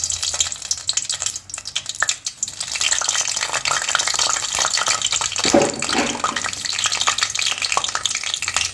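Slit eggplant frying in hot oil, a steady broadband sizzle and crackle that runs throughout, swelling louder after the pieces settle in the pan, with no one talking.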